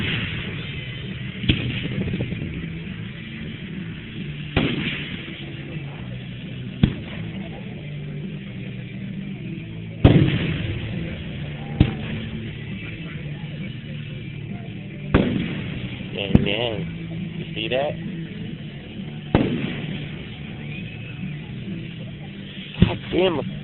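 Fireworks at a memorial park in Midlothian, Illinois, bursting outdoors: scattered sharp booms and pops at irregular intervals, some close and loud, others fainter, over a steady low rumble, with people talking nearby.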